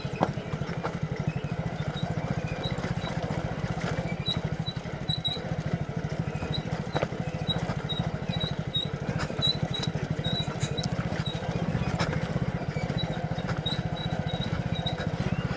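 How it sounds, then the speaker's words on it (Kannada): A vehicle ridden along a village road gives a steady, close engine drone with a continuous low rumble, a faint high whine and light rattling throughout, without pause. "ಓಹೋ ಗಾಡಿ ಕಿತ್ಕೊಂಡು ಹೋಯ್ತದ ಗುರು"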